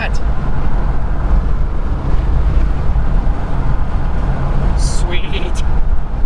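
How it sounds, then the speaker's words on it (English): Steady, loud wind roars against the microphone on a windy day during a road trip in an old police Ford Explorer, a constant blustery rumble throughout with a brief higher whoosh near the end. "It's kind of windy today"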